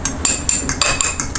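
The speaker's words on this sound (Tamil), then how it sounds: "இதை நல்லா பீட் பண்ணிக்கலாம்." Fork beating eggs seasoned with chili powder, pepper and salt in a bowl, with quick, evenly spaced clinks of metal against the bowl, about seven strokes in under two seconds, close and fairly loud.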